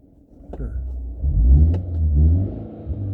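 A BMW 330e with its resonator and muffler deleted revs up in neutral nearby, giving a deep, throaty rise and fall with a short blip before a longer swell.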